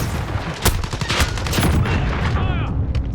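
Rapid FAL rifle fire in the Modern Warfare game, a few sharp loud shots with explosive booms and busy in-game background noise, no talk over it.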